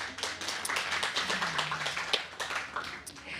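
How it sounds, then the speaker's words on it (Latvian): A panel-discussion audience claps to welcome a participant. The clapping is moderate and somewhat sparse, with distinct individual hand claps standing out in an uneven rhythm that stays fairly close throughout. "sveicam Andu ar aplausiem"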